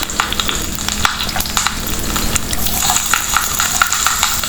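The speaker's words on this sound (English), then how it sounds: "I'm adding 1 teaspoon of fennel seeds, few curry leaves" Fennel seeds and curry leaves crackle and sizzle loudly in hot coconut oil, a dense continuous spatter with sharp pops scattered across the few seconds, close up and with no voices.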